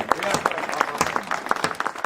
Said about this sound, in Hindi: 2-4 तालियां बजा दीजिए